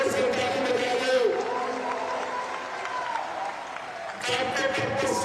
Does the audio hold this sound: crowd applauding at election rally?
yes